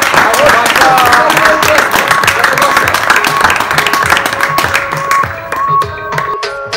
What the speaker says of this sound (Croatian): veliki aplauz za njega